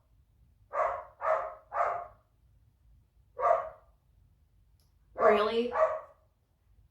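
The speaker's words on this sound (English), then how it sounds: "there's a dog next door, and if you hear it barking," A neighbour's dog barks next door: three quick barks in a row, a single bark after a pause, then a longer double yelp, moderately close, with a brief spoken word in between.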